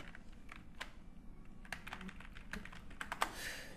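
Someone types the word crossword on a computer keyboard, a quick, quiet run of clicking keystrokes with no voices.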